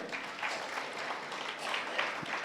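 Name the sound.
audience applause at a Christmas event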